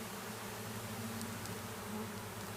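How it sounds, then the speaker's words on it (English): Steady low buzzing hum of many honeybees fanning a newly installed hive box, a dense continuous drone close by with no voices. "there's a crap ton of bees fanning this box"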